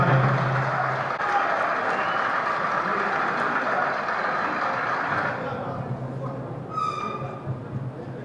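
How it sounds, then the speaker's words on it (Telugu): An audience claps for several seconds at a college alumni reunion of the 1975–81 batch, a dense, steady applause that fades after about five seconds into quieter room noise. "వారికి పట్టి చప్పట్లతో మీరందరూ కూడా అభినందనలు తెలపాలి"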